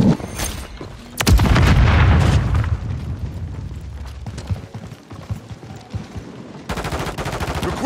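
Call of Duty combat with a dense burst of automatic gunfire and a loud booming blast early on, then scattered shots and crackling fire continuing through the rest, with another rattling volley at the end.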